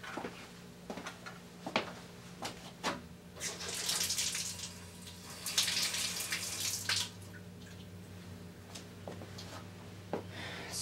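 Water runs from a tap in two faint, hissing gushes, with small knocks and clinks between them in a quiet room and no voices.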